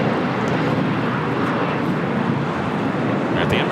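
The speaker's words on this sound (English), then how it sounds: "We're at the Emirates A380 making that left-hand turn onto Lima." Emirates Airbus A380 taxiing at LAX and making a left-hand turn onto a taxiway, giving off a continuous broadband engine rumble and whine under voices.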